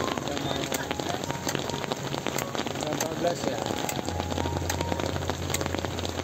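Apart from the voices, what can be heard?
rain falling at night while camping in Ford Everest campervan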